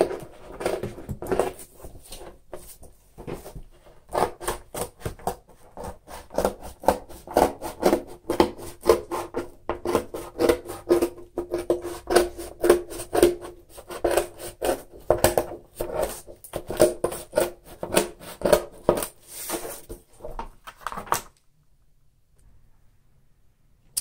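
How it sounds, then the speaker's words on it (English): Steady rhythmic snipping and scraping of scissors through stiff display board, close and continuous for about twenty seconds, then stopping into near silence. "I cut the edges out with scissors."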